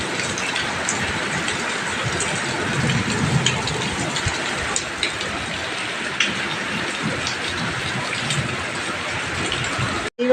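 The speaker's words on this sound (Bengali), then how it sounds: "দেখো হঠাৎ কালো মেঘ করে একদম মেঘ ডাকছে কি, আর বৃষ্টিও চলে এসছে।" Heavy rain from a sudden thunderstorm under dark clouds pours over a garden in a dense, steady, close hiss that continues without break.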